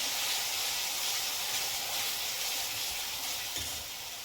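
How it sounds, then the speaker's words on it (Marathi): Coconut, garlic and coriander masala paste sautéing in hot oil, a steady loud sizzle with broadband hiss running unbroken throughout, close up and with no voices. "चांगलं असं तेल सुटेपर्यंत त्याला छान असं परतून घ्यायचं"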